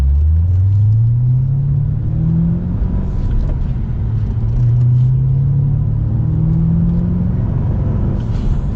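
A Ford Mustang GT500 engine rumbles loud and close while cruising, a deep steady drone whose pitch slowly rises and falls as the car drives on.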